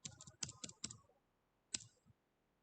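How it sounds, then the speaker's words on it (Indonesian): The backspace key on a computer keyboard is pressed while editing in Microsoft Word, giving a quick run of soft, close clicks followed by one more isolated tap after a short pause, quiet and without speech. "terus kita tekan backspace pada keyboard"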